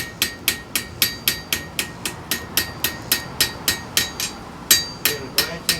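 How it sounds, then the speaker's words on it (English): Steady series of sharp metallic taps from a ball peen hammer striking a metal arrowhead in a blacksmith shop, about three blows per second, close and ringing, with no talk. "I want to achieve that by using a ball peen hammer"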